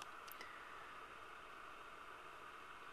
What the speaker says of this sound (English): Sounds just a lot like a white noise machine.